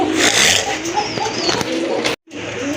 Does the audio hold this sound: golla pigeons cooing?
yes